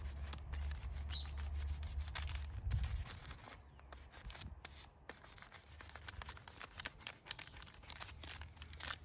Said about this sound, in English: I'm just going to go ahead over it, burnish it on, make sure that it's got a good adhesion to it there.